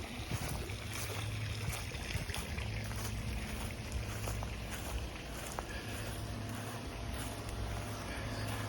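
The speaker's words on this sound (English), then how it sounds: "filter, pump motor, and this is on an electric heat, electric heater for the pool" Pool filter and electric pump motor running beside a residential pool in Sarasota, a steady low hum with faint splashing water noise, continuous and fairly quiet, no talking.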